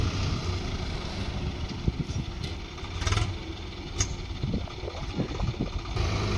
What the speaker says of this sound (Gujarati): આ સાઈડ એક ટ્રેક્ટર ભરીને આવી રહ્યું છે